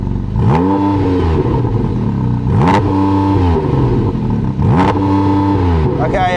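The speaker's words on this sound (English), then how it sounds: "Go on, start the engine. Give it some revs." A Porsche GT4 RS engine starts and revs hard three times in quick succession, each rising roar falling back to a steady idle, loud and close.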